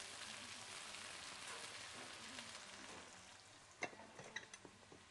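Garlic and ginger paste fries with onions in a pan, giving a faint, even sizzle, followed near the end by a few sharp scraping clicks from stirring.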